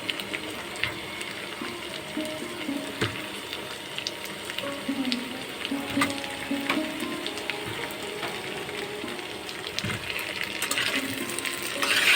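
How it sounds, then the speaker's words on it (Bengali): Onions sizzle and crackle steadily in a hot pan, a continuous close frying hiss with occasional scraping, no voices. "পেঁয়াজটা ভাজা হবে"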